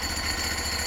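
A Hudson sawmill with a 36-inch clutch runs its engine in a steady, loud mechanical drone with a rough clattering texture, close by and without talking, over a very short stretch.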